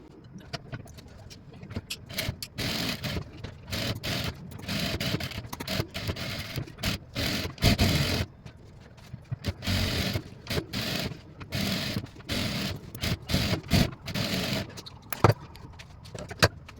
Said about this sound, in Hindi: हम इसको इस एरिया में सिलाई कर लेंगे और कट लगा देंगे